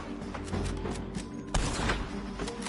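Gunshots in a Red Dead Redemption 2 shootout, a quick run of muffled cracks and thumps at a moderate distance, with one sharper, louder shot partway through.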